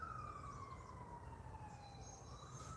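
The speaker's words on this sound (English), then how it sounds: "The sirens coming for me." A faint, distant siren wails with a slowly falling tone over a low rumble of passing traffic.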